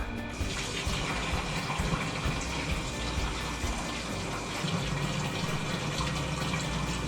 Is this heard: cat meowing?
no